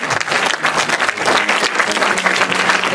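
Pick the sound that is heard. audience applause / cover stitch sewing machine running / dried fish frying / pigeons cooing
audience applause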